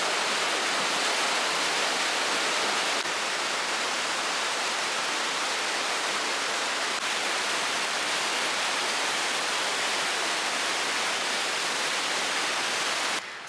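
A waterfall in the Brecon Beacons, South Wales, roars in a dense, constant rush of water that fills the whole clip, steady and close with no pauses.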